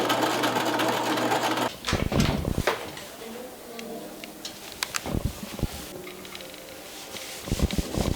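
A sewing machine stitches corset dress pieces in quick bursts of rapid mechanical whirring, separated by short pauses and fabric handling, fairly close and moderately loud.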